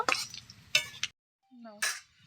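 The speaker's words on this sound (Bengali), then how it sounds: "ফোড়নটা একটু ভেজে নেব" Whole spices such as cumin, bay leaf, cloves, garam masala and dried chillies fry in white oil for tempering, giving short bursts of sizzling with metal spatula scrapes and clinks, separated by brief quiet gaps.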